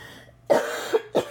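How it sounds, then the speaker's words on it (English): A person coughs indoors, a few sharp, close bursts in quick succession with short gaps between them. "Sorry, I don't mean to be coughing."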